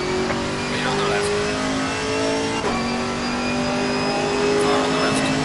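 Race car engines from the sim racing game Assetto Corsa Competizione at Snetterton, a steady loud whine of several cars revving at high pitch, with no pauses.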